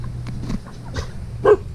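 A dog gives a few short, close barks and yips, spaced unevenly over a low steady hum.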